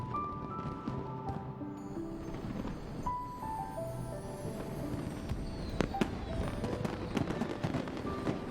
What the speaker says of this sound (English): Oh, look at that. Fireworks again.